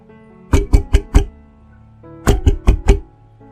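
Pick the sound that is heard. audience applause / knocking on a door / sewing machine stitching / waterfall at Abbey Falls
knocking on a door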